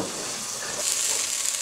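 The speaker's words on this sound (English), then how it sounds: "And when it's hot, add the onions." Onions frying in a hot pan while a sweet potato and spinach stew is being cooked, giving a steady close sizzle and crackle that brightens and intensifies slightly partway through, with no talking.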